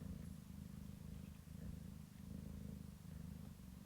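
A cat purrs steadily and close up, a low rhythmic rumble repeating without pause throughout, with no other sounds over it.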